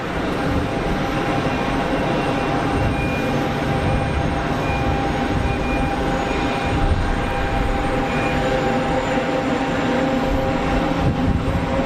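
An airliner at Geneva Airport makes its whining 'Wookiee' engine noise, a loud, sustained jet roar with tonal whine running steadily throughout, heard alone without talk.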